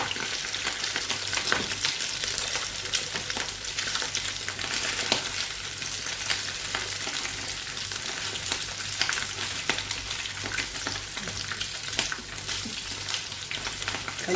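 Mombar sausage frying in a pan, a steady close sizzle with intermittent stirring clicks and scrapes, no voices.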